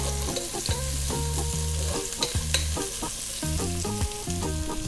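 Ginger, garlic and onion sizzle loudly in a hot pan for Filipino goto, with rhythmic scraping stirring strokes repeating over the steady frying hiss and no voices.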